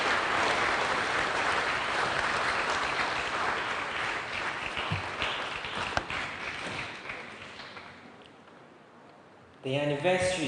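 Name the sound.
audience applause at anniversary launch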